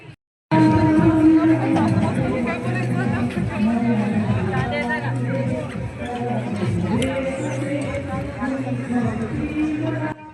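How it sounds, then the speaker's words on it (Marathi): Dense crowd bustle at a large flower exhibition in Nigdi, Pune, a steady babble of many nearby voices that barely lets up. "फुलांना पूर्ण गजबज झालेली आहे माणसांची पण खूप गर्दी आहे"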